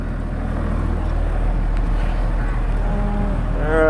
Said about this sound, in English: Alright, back in the tractor.